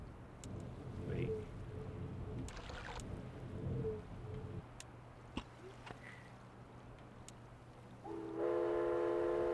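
In the Myst video game, a train sound effect plays as low rumbling tones with brief horn-like bursts, then a bright sustained whistle chord near the end, all fairly quiet and with no talking.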